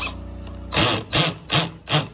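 Cordless power drill with its clutch set to 1, slipping under load: four loud, evenly spaced ratcheting bursts after a steady motor whir, close up with no talking.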